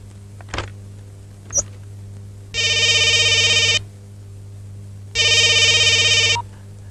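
A telephone rings in two long, steady electronic bursts separated by a short pause, fairly loud and close, with a couple of faint knocks before it and no talking.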